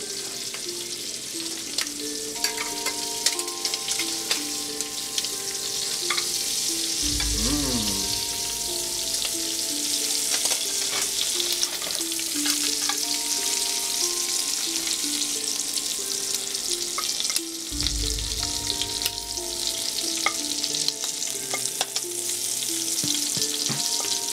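Shrimp frying in a hot pan, a steady loud sizzle throughout with occasional scraping stirs and clinks as pieces are flipped, close up and without talk.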